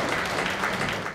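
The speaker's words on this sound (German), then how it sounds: "Applaus im Publikum, emotionalisiert." A studio audience at a televised philosophy discussion about torture gives a brief, dense burst of applause, even and moderately loud throughout.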